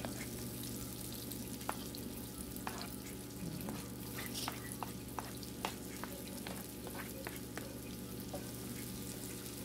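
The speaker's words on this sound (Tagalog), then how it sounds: "isusute natin yung garlic at saka bombay" Garlic and onion sauté in a hot pan for a tuna with egg dish. The sizzle is steady, with scattered small pops and crackles, and no voices.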